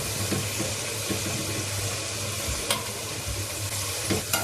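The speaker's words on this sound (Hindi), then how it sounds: "पकोड़े हमारे अभी फ्राई हो चुके हैं।" Pakoras deep-frying in hot oil for kadhi pakora give off a steady, close sizzling hiss with occasional soft clinks and stirring scrapes, and no voices are heard.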